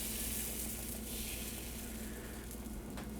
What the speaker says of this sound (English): I can hear it sizzle a little bit.